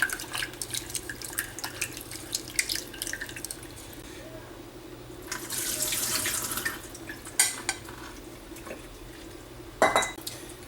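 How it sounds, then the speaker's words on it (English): Elderberries rinsed under a running kitchen tap, a steady water hiss with brief clinks of dishes or utensils in a sink, close and moderately loud. "Now I'm just gonna give them a little rinse."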